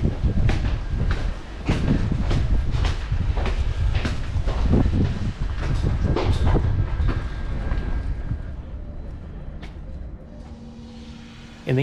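A Belgian passenger train travelling from Lichtervelde to Bruges rolls along the rails, loud rumbling with clattering wheel clicks that gradually ease into a quieter hum toward the end.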